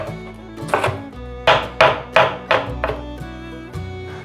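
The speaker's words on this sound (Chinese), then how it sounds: "这里切碎" A knife finely chopping vegetables on a cutting board, with a series of close, crisp knocks in an uneven rhythm and short pauses between the strikes.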